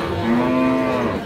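A Sahiwal cow at a cattle market gives one long, loud, close moo lasting just over a second, with no voices over it.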